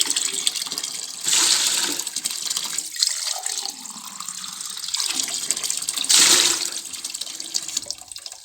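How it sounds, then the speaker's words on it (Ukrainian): Cold water pours from a tap in strong bursts, gushing louder at times, with sloshing and filling sounds in between, close by. "І дві зараз лью прямо ось під крана холодної звичайної води."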